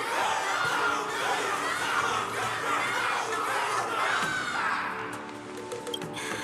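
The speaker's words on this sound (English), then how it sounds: "Everyone's cheering for you, Luca." A video game crowd cheers and shouts in a dense, loud roar of many voices that holds steady, then drops away near the end as music and effects take over.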